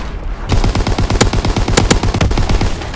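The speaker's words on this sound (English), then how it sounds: "They fire on the infantry by the tank!" Soldiers' gunfire in the World War II shooter Call of Duty WW2, during a multiplayer war battle near a tank: loud, dense machine-gun bursts and overlapping rifle shots rattle almost continuously, with several sharper cracks standing out.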